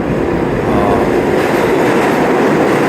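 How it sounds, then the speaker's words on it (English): An old New York subway train rolls through the 8th Avenue line station at Penn Station, a loud, steady rumble of cars and wheels close by that fills the whole stretch. "There's one of the old school trains."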